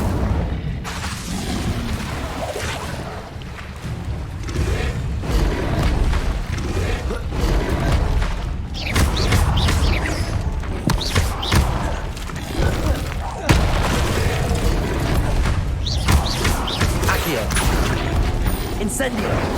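Incendio fire spell cast repeatedly in Hogwarts Legacy combat, dense whooshing bursts and booming thuds amid continuous battle noise, with a voice talking over it.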